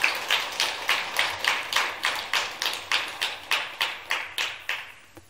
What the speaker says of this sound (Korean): 박수 부대요.